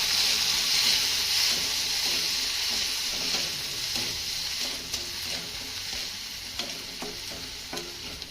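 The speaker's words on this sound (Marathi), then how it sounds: "आता हा टोमॅटो आपल्याला चांगला मऊसूर होईपर्यंत परतून घ्यायचा आहे" Chopped tomato sautés in a pan with garlic and ginger, a continuous sizzle broken by frequent spatula scrapes and stirring, close and fairly loud with no voices.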